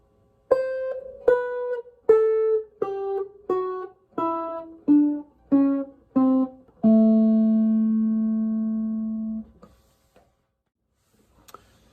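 A clean Chicago blues electric guitar phrase of about ten distinct plucked notes stepping downward in an even rhythm, ending on a long sustained low note, then near silence.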